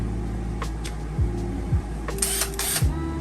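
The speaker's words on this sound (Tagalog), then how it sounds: "impact driver." Short trigger pulls on an impact driver under test give several quick whirring bursts that wind down in pitch, separated by small clicks and handling noises.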